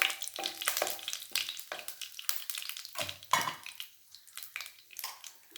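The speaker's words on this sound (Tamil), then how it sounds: "கடாய் காஞ்சிருச்சு. கொஞ்சமாக எண்ணெய், ஒரு பிரியாணி இலை, கொஞ்சம் ஜீரகம்" Bay leaf and cumin frying in a little oil in a hot kadai, giving a steady close sizzle broken by light metallic clinks and stirring scrapes throughout, with no voices.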